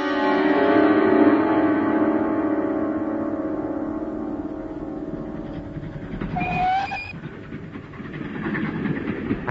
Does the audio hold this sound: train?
yes